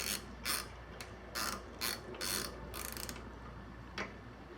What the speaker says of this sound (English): I'm going to loosen the bolts.